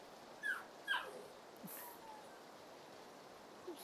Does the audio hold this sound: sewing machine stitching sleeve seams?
no